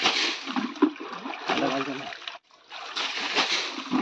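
Water splashing repeatedly as it is bailed out of a forest stream in Konkan while fishing, with choppy bursts, one short pause near the end, and voices talking over it.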